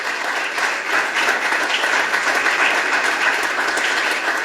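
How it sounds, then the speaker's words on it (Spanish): Applause from a church congregation during a service, steady and dense throughout, many hands clapping together in a full, continuous roar with no voices above it. "¿Cuánto le dan un aplauso al Señor?"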